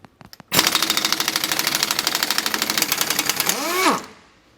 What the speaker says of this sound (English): we're going to be using a 1-inch impact today